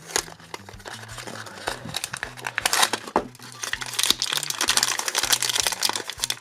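A paper bag is ripped open with dense crinkling and tearing rustles across several seconds, close and fairly loud, while a low electronic tone pattern plays underneath.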